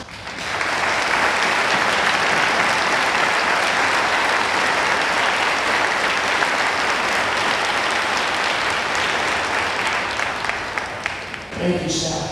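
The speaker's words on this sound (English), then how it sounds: "Graduates, please give them a well-deserved round of applause." A large crowd claps loudly and continuously at a grade school commencement ceremony, a dense sustained roar that tapers off as a voice begins at the end.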